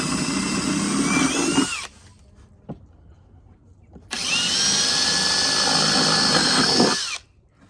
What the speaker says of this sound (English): that's why I'm drilling from the bottom